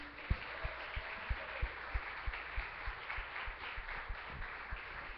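A church congregation claps during worship, faint and distant, with a steady rhythm of roughly two claps per second under a soft wash of room noise.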